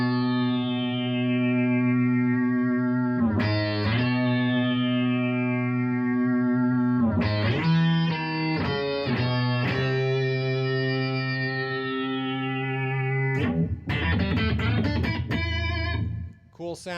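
Heavily distorted electric guitar through a Source Audio foldback distortion effect, notes held and ringing, their tone shifting into a buzzy, synth-like timbre, with new chords struck every few seconds.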